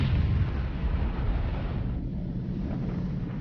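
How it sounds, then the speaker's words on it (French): A one-tonne charge of dynamite buried deep under water goes off in a heavy, rumbling roar that fills the whole clip and fades only slightly toward the end, with no talking. "Après l'explosion, il faut quelques secondes pour que la pression monte et projette en l'air de l'eau et du sable."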